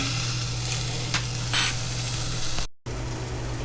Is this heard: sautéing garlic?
yes